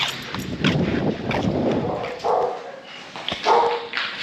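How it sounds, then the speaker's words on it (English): Several dogs on a property in Puerto Rico bark and yip excitedly, with loud, close bursts that come in an uneven rhythm and overlap one another. "Dogs are going bonkers."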